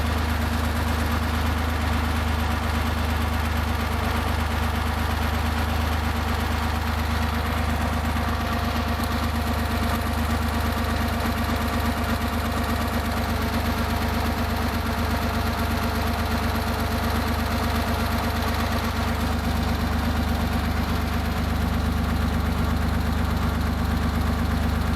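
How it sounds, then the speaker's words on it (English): Porsche engine idling steadily during a 15K service, a continuous low rumble with an even, unchanging tone throughout, fairly loud and close, with no talking. "I'm a hair high on my idle, so I'm going to bring it down just a little bit."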